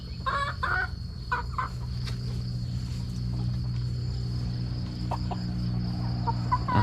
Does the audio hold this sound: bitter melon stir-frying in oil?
no